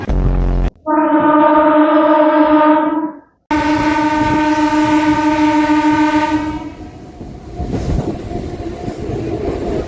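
A MEMU passenger train on the Machilipatnam to Vijayawada line sounds two long, loud horn blasts, one after the other, then rolls on with a rumbling, rattling clatter of wheels and carriages.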